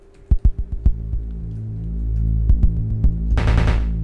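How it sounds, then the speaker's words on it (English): A handful of sharp, rapid mechanical nail gun shots in a Quake-style video game ring out over a low droning hum, followed by a sparse few more and a hissing burst. "And here we have the nail gun, I think it's called."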